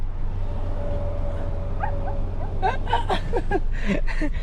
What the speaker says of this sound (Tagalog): Ang cute naman ng mga aso nasa loob ng sasakyan.